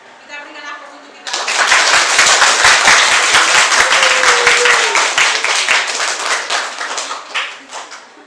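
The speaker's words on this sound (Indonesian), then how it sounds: "Kita berikan aplaus untuk kita." A classroom of students breaks into sustained applause, loud and close, many hands clapping together for several seconds before tapering off, with a voice heard briefly before the applause begins.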